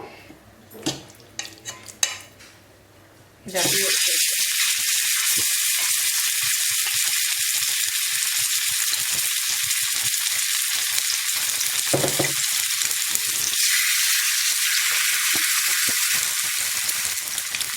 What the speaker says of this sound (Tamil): இப்போ இதை நான் தோசைக்கல்லில் தான் ஃப்ரை பண்ண போகிறேன்.